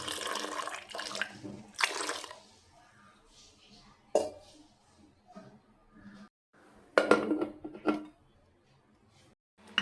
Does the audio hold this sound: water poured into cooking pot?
yes